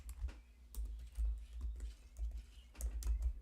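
Rapid keystrokes on a computer keyboard come in short irregular bursts separated by brief pauses, fairly close and moderately loud, with no talking.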